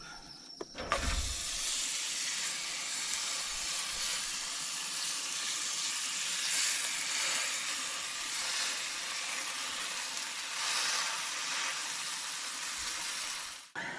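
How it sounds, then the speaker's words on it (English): A seasoned burger patty sizzles in a hot skillet, a steady close hiss of frying fat that runs unbroken for most of the clip, with no talking. "you're just gonna throw this into the hot skillet for about 5 minutes before you flip"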